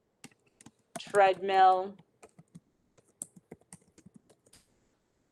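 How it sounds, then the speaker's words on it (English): Light, close taps on a computer keyboard come in short irregular bursts and single keystrokes, with a brief spoken word in the middle. "Maybe it would help if I typed bike."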